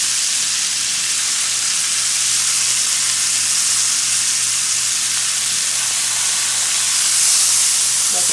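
A large steak sizzling in a hot pan as it is turned over: a loud, continuous frying hiss with a faint low hum beneath it, swelling slightly near the end.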